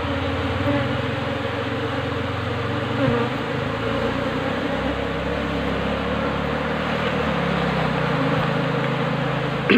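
A honey bee colony heavy with drones buzzes continuously, a dense, steady droning hum of many wings close up, with no voices over it.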